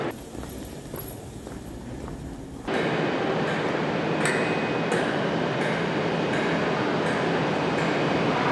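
A British Class 350 electric passenger train runs with a steady rumbling roar and rhythmic clacks over the rails, after a quieter opening with footsteps.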